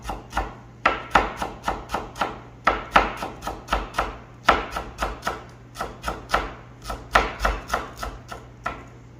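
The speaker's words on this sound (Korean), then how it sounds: "돌돌 말아서 이렇게 채를 써시면 좀 간단하게 쉽게 채를 쓸수 있습니다" A knife slices rolled perilla leaves into thin strips on a cutting board, giving crisp, rapid chopping strokes in quick bursts of several cuts each, close and clear, with no talking.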